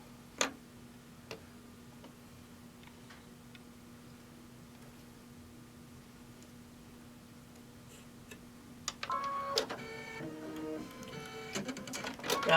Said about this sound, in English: Gotta love that needle threader.